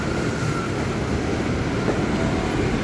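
A commuter train on the KRL line at a Jakarta station platform, giving a steady, loud rumble and hum that holds evenly throughout with no voices.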